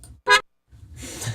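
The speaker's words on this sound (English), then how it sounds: "The sound we made the bass out of was this car horn." A single short honk of a BMW car horn, loud and brief, followed by a quieter stretch of muffled rumbling noise.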